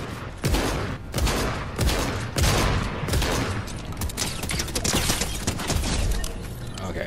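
Repeated shotgun blasts in Fortnite, loud sharp reports at roughly even intervals over about seven seconds, with mechanical clatter and other game noise filling the gaps between shots.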